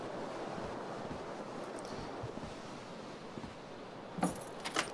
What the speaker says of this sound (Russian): В номер врывается холодный ветер, пальцы в ногах поджимаются.